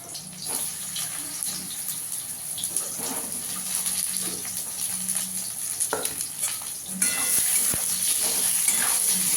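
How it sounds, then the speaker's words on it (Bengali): Brinjal frying in oil in a pan, a steady close hiss and crackle with occasional utensil taps, the sizzle growing brighter and louder toward the end, no voices. "এবার এই তেলে আমি বেগুনটাকে একটু ভেজে নেব"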